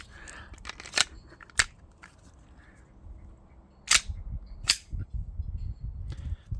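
An Umarex Glock 19 Gen5 MOS airsoft BB pistol fires blowback shots in four sharp, snappy cracks spaced irregularly over a few seconds, each standing out clearly above a quiet room background.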